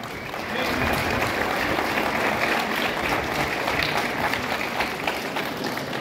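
Strong sustained applause from an audience at a municipal government event, dense crowd clapping that swells quickly and holds steady throughout.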